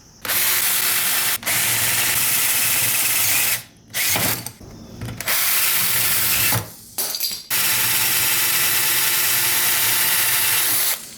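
An electric drill bores a small hole for the throttle valve in a homemade carburetor for a DIY engine built from an old compressor. It whirs loudly in several long bursts with short pauses between, and no talking.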